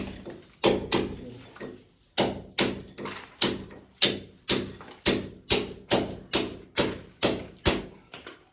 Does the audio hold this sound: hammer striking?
yes